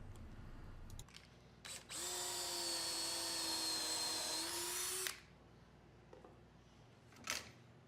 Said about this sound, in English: we can go ahead and pre-drill some holes in order to put some screws in